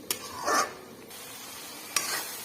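Stirring fish curry masala in a pan: two sharp scraping clinks of a utensil against the pan, each followed by a brief soft sizzle and swish, fairly close over a quiet background.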